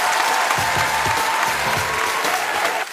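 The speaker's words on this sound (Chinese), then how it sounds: "来，我们的观众给他点掌声啊！" A studio audience claps steadily and loudly from start to finish, a dense wash of applause from the crowd with no break, ending with a slight dip.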